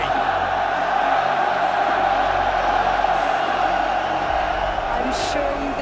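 French fans at the RLCS Paris Major Rocket League playoffs cheer for Vitality, a dense, loud arena roar that runs steadily throughout with whoops rising from the crowd.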